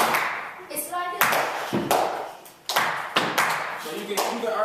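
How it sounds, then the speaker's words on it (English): Sharp hand claps and heavy stomps trade in a rhythmic pattern, loud and close in a room, with brief pauses between the groups of hits. "So the stomp is after the clap."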